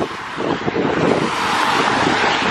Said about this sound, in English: I'm not sure if you can hear me because it's really windy